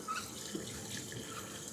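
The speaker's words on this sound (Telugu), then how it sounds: "బోరింగ్ కొట్టు" Cold water splashes steadily from a borewell hand pump, a faint, continuous gush with no talking over it.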